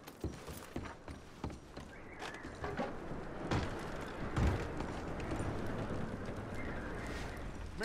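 Horses in the video game Red Dead Redemption 2, with irregular hoof clops and gear clinks at first, then a rising steady rumble of movement and ambient noise, no voices.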